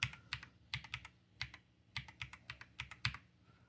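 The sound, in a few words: typing a password on a computer keyboard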